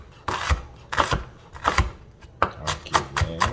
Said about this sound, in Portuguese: corto ela em brunoise, ou seja, miudinha. Ó, vamos misturar a cebola branca com cebola roxa.